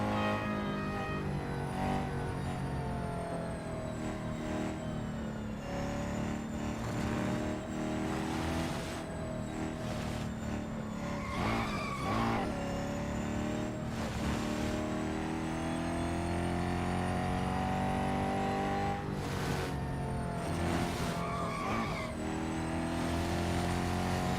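An Acura ARX-06 race car in the Real Racing 3 video game roars steadily throughout, its engine rising and falling through gear changes with revving surges and loud, continuous playback and no talk.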